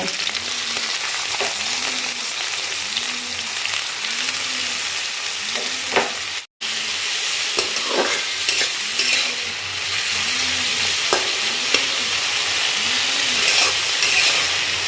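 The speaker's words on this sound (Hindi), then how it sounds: "भलरे गोल्डन ब्राउन होला पर्यंत छाणिए।" Bitter gourd (karela) slices frying in hot mustard oil, a steady close sizzle and hiss with occasional stirring taps and a periodic whirring hum beneath, briefly cut out once midway.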